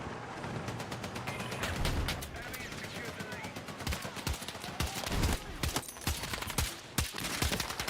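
Gunfire in the Battlefield 6 video game, with rapid bursts and sharp individual shots cracking over a rumbling battle bed, some loud and close, others more distant, while a player talks over it.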